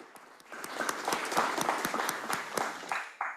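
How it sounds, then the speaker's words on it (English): Applause from conference attendees at the close of a LATAM event, a dense, steady wash of many hands clapping with sharper individual claps standing out, sustained throughout. "I beg a round of applause for yourselves"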